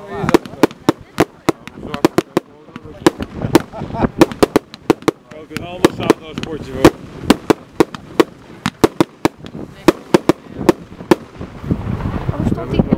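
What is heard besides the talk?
firework cake, Zena Mayhem Cakebox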